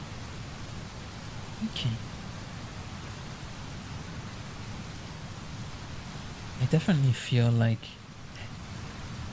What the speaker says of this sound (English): listening to these rain sounds